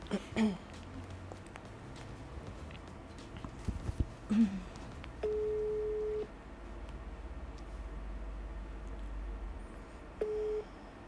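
A phone ringback tone sounds in two short steady beeps several seconds apart, faint under room noise and scattered clicks, with no talking.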